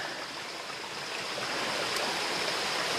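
Water pours steadily from among rocks on a mountaintop, a continuous, close rushing and splashing that grows slightly louder midway, with no voices.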